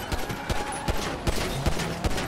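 The player's gun fires in the video game GTA V: a quick string of close, sharp shots, irregularly spaced, over a noisy game background.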